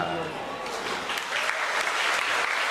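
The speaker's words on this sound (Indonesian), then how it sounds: "tepuk tangan saat ibadah sedang berlangsung" A church congregation claps during a service, a dense, steady round of applause with some voices mixed in beneath it.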